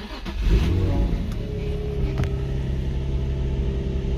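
An Infiniti engine, on a car being repaired and tuned in a garage, cranks and catches at the start, then settles into a steady, close idle rumble that runs to the end.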